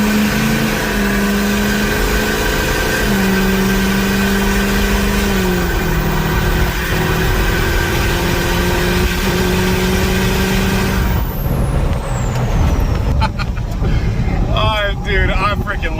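A hoodstack diesel truck with its windows down drones loudly and steadily on a bridge. The engine note shifts up through the gears before the sound breaks into rushing wind and scattered clatter near the end.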